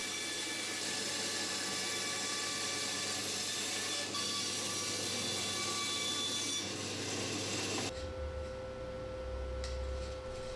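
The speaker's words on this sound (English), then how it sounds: "First, I removed the bulk of the material at the bandsaw." Bandsaw cutting through wood stock for a fingerboard ramp, a steady dense rasping whine lasting about eight seconds before the blade cuts off and the machine hum lingers alone.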